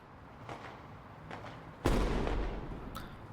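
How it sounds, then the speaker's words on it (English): Fireworks go off at an outdoor display: a sudden loud bang at mid-clip that rumbles away slowly, then a sharp crack near the end, heard over a quiet, murmuring background. "I guess the fireworks have started."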